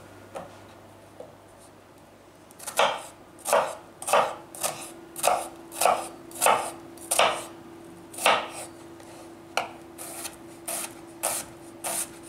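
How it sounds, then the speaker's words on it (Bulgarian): A knife chops mature onion on a board in about a dozen crisp, evenly spaced strokes, close and clear, slowing into lighter taps toward the end, with no voices. "Ще нарежа стария лук, пресния лук и агнешките дреболийки."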